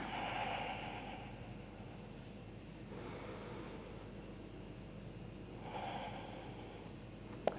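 A slow, deep inhale and exhale during a Warrior One yoga flow, close and soft, with breathy hiss swelling at the start and again near the end over a quiet background.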